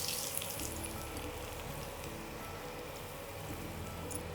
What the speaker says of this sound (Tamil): நம்ம நறுக்கி வச்சுருக்க அருகம்புல்லை சேர்த்து பொரிச்சிடலாம்